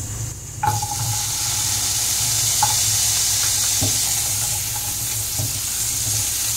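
Grated coconut with turmeric sizzles steadily in hot oil, a constant bright hiss with a few soft clinks and stirring sounds.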